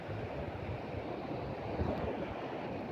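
Sea waves at La Union beach wash in as a steady, soft, broadband rush, faint and distant, with a gentle swell near the end and no voices.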